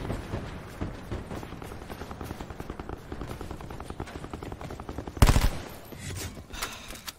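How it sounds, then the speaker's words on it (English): Rapid automatic gunfire rattles in Call of Duty: Black Ops 4, long bursts of dense shots followed by a sudden loud blast near the end and scattered fainter firing after. "Shooting off the gun for no reason"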